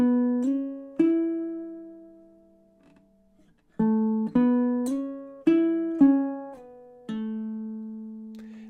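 A fingerpicked riff on a baritone ukulele repeats two measures, with clear plucked notes ringing and decaying in short phrases and a brief near-silent gap midway, close and moderately loud with no talking.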